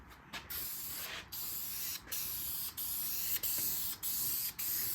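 Spray gun laying a light coat of paint in a paint booth, a close, steady hiss broken into repeated passes by short regular gaps in a clean rhythm.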